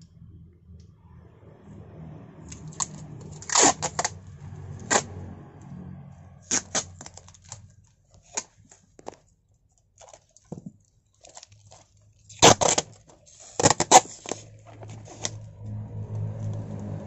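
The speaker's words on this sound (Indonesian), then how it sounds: "Lalu kita kasih lakban." Packing tape pulled and pressed onto a super jumbo begonia package, with irregular sharp ripping and tapping bursts scattered across the clip between quieter handling rustles, close up and with no talk.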